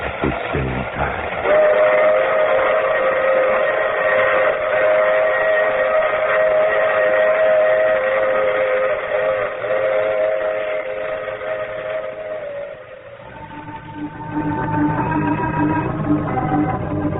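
In a vintage radio drama, a train sound effect rumbles and clatters along the rails under long, steady steam whistle blasts. A second whistle tone and a shift in the rolling noise come near the end.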